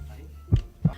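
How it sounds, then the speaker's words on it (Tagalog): Two heartbeat thumps, low and booming, played as the mystery sound in a radio sound-guessing game, with a faint hum beneath. "ang sagot ng madaling bato ay Heartbeat. heartbeat O kaya o tibok ng puso"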